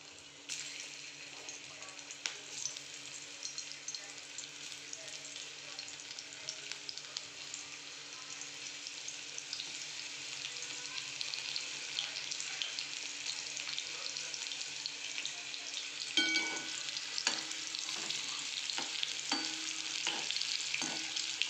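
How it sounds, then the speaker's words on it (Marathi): Cluster beans (gavar) deep fry in hot oil in a kadhai with a constant bubbling sizzle that slowly grows louder. Near the end, stirring brings several distinct knocks and clatters. "आपण आता या शेंगा डीप फ्राय करून घेऊया"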